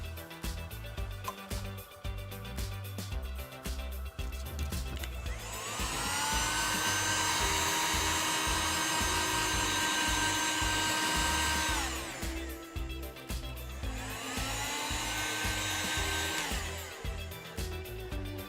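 A heat gun blows hot air in two sustained whining bursts, the motor pitch rising quickly as each starts and falling as it cuts off, close and loud.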